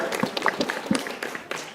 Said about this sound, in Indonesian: Beri tepuk tangan yang meriah sekali lagi, kita kasih semangat untuk semua grup.